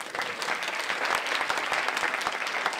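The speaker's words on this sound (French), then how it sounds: "Donc Damien, on peut l'applaudir." Dense applause from an audience at a film screening runs steadily and evenly throughout, with many hands clapping close together.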